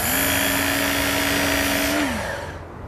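A Work Sharp belt knife sharpener grinds a partially serrated single-bevel tanto blade. The motor holds a loud, steady whine for about two seconds, then spins down and fades.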